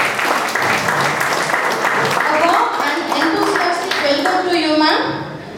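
Audience applause at a guest lecture in an MBA department fills the room with steady, dense clapping, while a speaker's voice rises over it in the second half.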